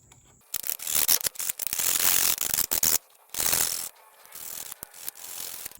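A small hand hacksaw cuts through a broken Mazda Miata thermostat water outlet, giving bursts of rasping, scraping strokes with short pauses between, close and fairly loud.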